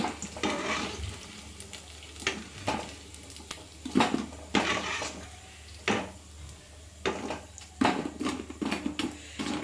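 Freshly fried vadas, made from cooked rice, being lifted out of hot oil and moved onto a plate, with steady sizzling and bubbling broken by repeated sharp clinks and scrapes of a utensil against the pan.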